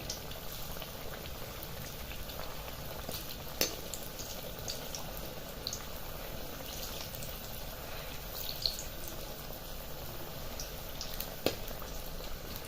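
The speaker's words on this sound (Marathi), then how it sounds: "ते आता पलटून घेणार आणि दुसऱ्या बाजूने सुद्धा फ्राय करून घेणार" Potato bhaji fritters deep-frying in hot oil, street-cart style, give a steady soft bubbling hiss throughout with a few faint clicks, quiet and even with no talking.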